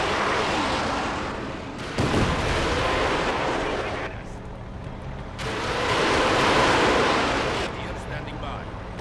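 Close air support bombing in Company of Heroes 2 during the Stalingrad mission, loud booming blasts and rumbling explosions rolling in waves across the whole stretch with no voices.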